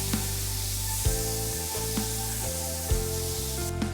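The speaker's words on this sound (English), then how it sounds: "Heat up the butter and now I'm going to add the onions." Onions fry in hot butter in a pan, a steady close sizzle and hiss with occasional soft stirring knocks, continuous and fairly quiet with no talk.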